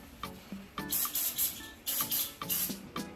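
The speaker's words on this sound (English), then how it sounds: "Cool care spray to clean up the trimmer first." Cool care spray on a hair trimmer, several short aerosol bursts of hiss in an uneven rhythm, close and moderately loud, with no talking.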